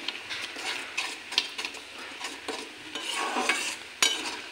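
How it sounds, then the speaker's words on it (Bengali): Spice mix being stirred into carambola chutney in a pan, with a soft continuous scraping and stirring over a faint sizzle and occasional utensil knocks. "চাটনির মশলা দিয়ে দেব, মশলাটা মিশিয়ে নিই।"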